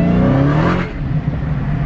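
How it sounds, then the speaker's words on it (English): A Dodge Charger Redeye Jailbreak with a supercharged engine revs loudly and close, a strong rising engine roar with supercharger whine that eases off partway through. "I'm about to throw it out my window so I can hear my supercharger."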